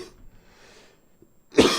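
A single short, sharp cough from someone fighting a cough, loud and close after a moment of near-silence.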